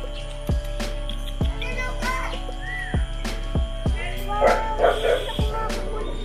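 A Maltipoo dog barks repeatedly in sharp, evenly spaced barks nearby, with faint talking and a few higher whimpering yips mixed in.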